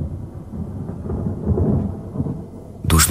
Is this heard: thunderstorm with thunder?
yes